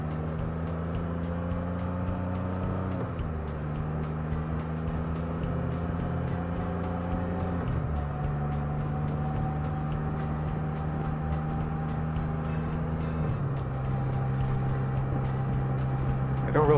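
A Can-Am Spyder F3 three-wheeled motorcycle cruising on a sunny ride, its engine a steady low drone that steps up and down through gear changes, with constant wind noise over it.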